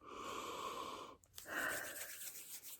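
Close, breathy sniffing as someone inhales essential oil rubbed between their hands, a long drawn breath, a brief pause, then another sharp inhale.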